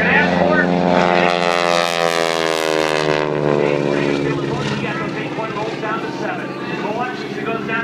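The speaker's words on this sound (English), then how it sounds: "roll that airplane right down the show line here to 8-point hesitation roll" A vintage biplane roars through an aerobatic eight-point hesitation roll at an air show, its propeller engine loud and close with a steady droning pitch that shifts as it passes, while an announcer talks over it.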